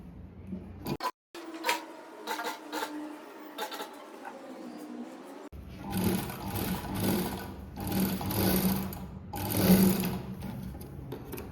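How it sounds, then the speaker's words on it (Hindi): Sewing machine stitching a blouse: a short run at first, then a silent gap, then a longer, louder stretch of close, uneven stitching that speeds up and slows down. "अब इसमें हमें पॉइंट की सिलाई लगानी है।"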